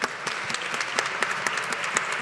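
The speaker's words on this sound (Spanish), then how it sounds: "También le pueden dar un aplauso, por favor." An audience at a university magazine launch applauds in a short, steady burst of many hands clapping. The sound is moderately loud and heard alone, with no voices over it.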